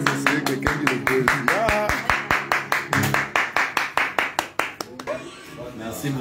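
Audience applause mixed with rhythmic group clapping in steady beats, loud and close, with a voice speaking over it before the clapping thins out near the end.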